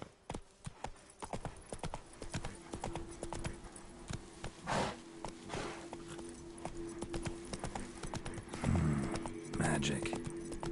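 Hoofbeats of a galloping horse in The Witcher 3 on PS5, rapid rhythmic clip-clop throughout, with game sound effects and a voice speaking over it.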